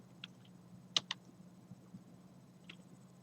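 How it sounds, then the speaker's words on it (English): A few light keystrokes on a computer keyboard while preparing a church media computer, sparse clicks with a quick pair in the middle, faint against a low steady hum. "let me go ahead and type in 23 in here"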